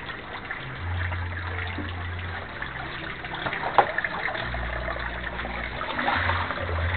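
Floodwater trickles and gurgles steadily as it drains out of a flooded house, a close, continuous liquid sound with low hums and occasional small splashes.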